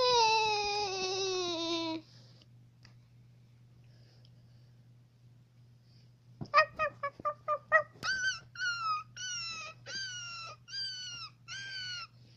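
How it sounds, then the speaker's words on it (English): Two dogs, a long drawn-out whining cry followed after a pause by a rapid run of short yelps and then several drawn, whimpering barks, all over a steady low hum. "Two dogs."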